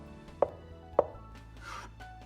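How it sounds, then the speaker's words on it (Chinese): Two crisp knife chops on a cutting board as scallions are cut, about half a second apart, followed by softer scraping; close and alone. "小葱适量切成葱花"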